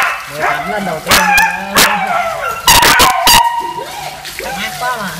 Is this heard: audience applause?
no